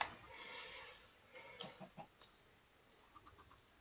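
Minecraft chickens cluck in a few short, moderately near bursts over a soft steady background, with scattered clicks toward the end and no talking.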